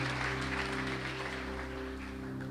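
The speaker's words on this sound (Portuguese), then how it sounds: "Aplauda mais forte." A church congregation applauding, a broad steady wash of clapping from many hands that holds at an even level throughout, with a low sustained hum of organ or amplified tone underneath.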